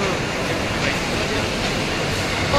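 Steady rushing rumble and rattle of an Indian local train in motion, heard from inside a carriage, loud and continuous with a noisy wash throughout.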